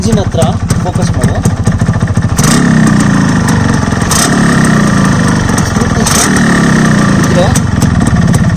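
A Yamaha RXZ motorcycle engine idles with its silencer covered, giving a loud, steady, close throbbing rumble that holds evenly throughout, with a voice talking partly under it.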